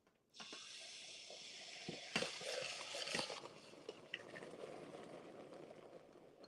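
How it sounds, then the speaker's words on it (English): Cream poured into hot browning sugar caramel for caramel apples, a loud steady bubbling hiss that erupts at once, with sharp crackles and spits around the middle, then settles into a fizzing seethe as it is stirred. "so I'm gonna add another cup of cream"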